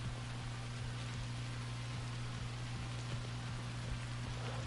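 Rain falls steadily in The Texas Chain Saw Massacre game, a constant dense hiss over a low droning hum, faint and unbroken with no voices.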